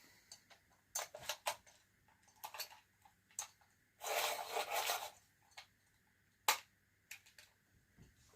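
A colouring pencil is sharpened in short, quiet scraping bursts, with one longer grinding stretch in the middle and brief ticks between, and no talk.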